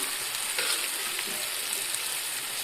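Tomato pieces frying in a pan, a steady close hiss and crackle of sizzling oil, bright and even throughout, with faint stirring scrapes and no voices.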